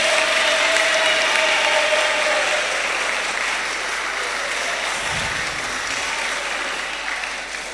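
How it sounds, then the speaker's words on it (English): A public speaking competition audience gives a speaker sustained, loud applause, a dense rattling wash of clapping that runs for nearly eight seconds and eases off slightly at the end. "Let's clap for him."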